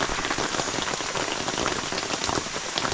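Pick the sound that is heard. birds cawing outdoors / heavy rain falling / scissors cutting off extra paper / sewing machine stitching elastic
heavy rain falling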